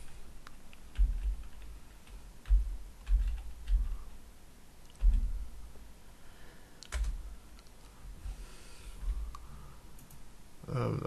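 Typing on a computer keyboard while working in Revit Architecture 2014, bursts of close, clattering key clicks and a few mouse clicks with pauses between, no voice over it.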